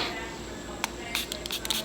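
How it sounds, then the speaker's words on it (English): Setting spray spritzes onto a makeup sponge in a quick series of short, sharp hissing puffs that follow an isolated first burst, all close to the microphone against a quiet background. "I spray the sponge"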